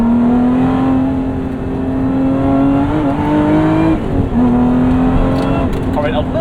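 Modified 2024 Lotus Emira sports car engine pulling hard on a bumpy road, a steady loud drone rising in pitch through the run with a brief dip near the middle, while a person talks over it.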